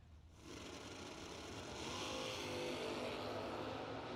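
A Mustang and a 1969 Firebird launch side by side at a bracket drag race, their engines building into a loud, sustained roar that swells and holds steady over roughly four seconds, with no voices heard.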